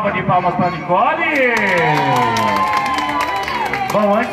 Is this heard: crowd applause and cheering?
yes